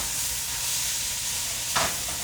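Onions fry in a pan with a steady soft sizzle and hiss, faint and continuous, with a brief clink of stirring near the end.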